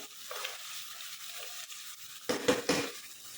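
Cashew nuts dropped into a hot pan for veg pulao, a soft steady frying hiss followed by a short burst of louder clattering sizzle and stirring near the end.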